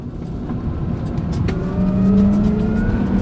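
An electric Fiat 500 pulls away at full power on a snowy road. A steady whine of motor and road noise builds in pitch as it accelerates, heard from inside the car.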